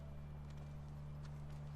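Horse hooves clip-clopping in The Last of Us video game, a faint quick patter of steps under a steady low hum, with no speech.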